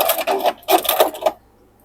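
A sewing machine stitches a quilt block in short, rapid bursts of mechanical clatter, close and fairly loud, then stops abruptly and leaves near silence.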